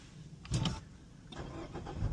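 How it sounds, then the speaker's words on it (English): A car engine cranks with a short burst and catches, settling into a low running rumble, close and moderately loud. "Kill the car, turn the car right back on."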